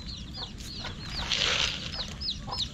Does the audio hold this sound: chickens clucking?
yes